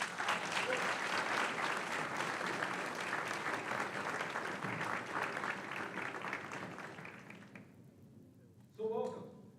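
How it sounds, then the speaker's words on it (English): Audience applause at a high school varsity athletic banquet, loud clapping from a crowd that gradually thins and fades out, followed by a brief spoken voice near the end. "give him a big round of applause, Nick and Kelly Tipton."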